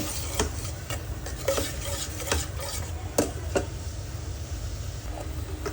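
Thai curry paste being stirred with added water in a pan, a low bubbling simmer with repeated soft knocks and scrapes of a spoon against the pan, no voices.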